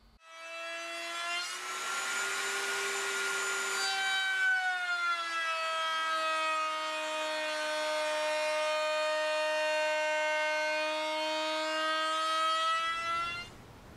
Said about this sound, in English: I can go ahead and start routing the outer edge. I decided to go with a chamfer bit for the profile on the outside edge of the lid.